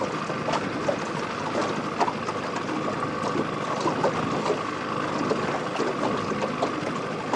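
An old outboard motor on a boat, unused for at least two years, runs steadily with a constant droning hum, mixed with wind and water noise, with no pauses.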